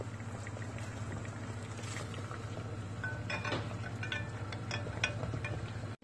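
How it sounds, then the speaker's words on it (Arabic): Onions simmering in a pot of boiling water while stuffed vegetables (mahashi) are prepared with bulgur, giving a steady bubbling rumble with occasional clinks of pot and utensils nearby. "عم بغليهم بالمي شي 5-7 دقايق ليطروا الورقات"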